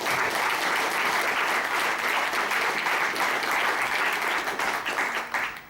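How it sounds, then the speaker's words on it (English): A roomful of people applaud steadily at the Rinty Monaghan boxing tribute night, a loud, even wash of clapping that holds for several seconds before tapering off at the end. "Give them a round of applause,"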